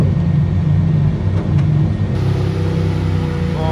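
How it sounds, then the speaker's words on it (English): A Ferrari Enzo's engine idles steadily while the car is loaded onto a truck, a continuous low mechanical rumble that stays close and even, with a slight rise in pitch toward the end and no talking. "Loading a Enzo on a truck right now."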